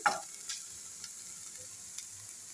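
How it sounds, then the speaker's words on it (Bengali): Potato and banana flower fry with onion in a pan, holding a low, steady sizzling hiss with a few faint taps from stirring. "এটাকে আমি শুধু পেঁয়াজ দেবো, পেঁয়াজ দিয়ে ভাজবো।"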